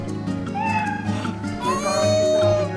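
Daisy, a cat in a video game, meows several times in quick succession, a close and clear mewing with game music and sounds layered underneath.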